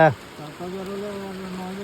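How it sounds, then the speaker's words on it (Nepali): Steady hiss of a heavy downpour at an outdoor riverside spot at Rashi Khola, running as a constant wash under a brief voice and some tonal humming. "यस्तो पानी झरीमा पनि"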